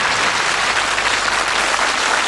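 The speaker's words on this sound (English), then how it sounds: "Warm round of applause." Studio audience at the 1981 darts game show Bullseye giving a warm round of applause, a thick, loud wash of clapping that holds steady throughout the brief moment.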